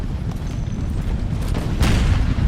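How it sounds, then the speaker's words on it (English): Cannon fire booms from a Napoleonic-era battle in the Imperial Splendour mod, with deep rumbling blasts of canister shot rolling over the ranks and a heavier thump near the end, loud and continuous with no voices. "Look at how that canister shot is tearing up the enemy ranks."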